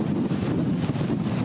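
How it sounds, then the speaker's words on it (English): Strong hurricane wind gust at Satellite Beach, Florida, a loud, steady roar buffeting the microphone with no break, no voices over it. "there goes another big gust"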